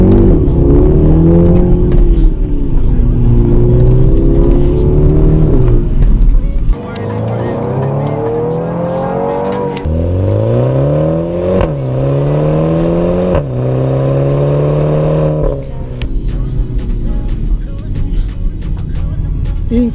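A BMW X2 M35i compact SUV accelerates hard in sport mode, its engine note climbing through the revs, pausing for gear shifts and then rising again, loud and close from inside the cabin.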